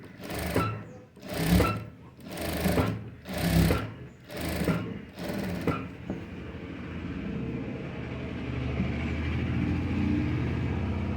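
A sewing machine stitches along the piping thread of a princess-back blouse in several short bursts of fast, rhythmic clatter, each separated by brief pauses, then gives way to a low steady hum.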